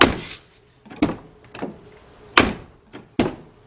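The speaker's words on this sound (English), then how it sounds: "Open and close the door one more time." A car door on a BMW X5 swings open and shuts several times, giving a series of sharp, close thunks and latch clicks with brief pauses between them and no talking.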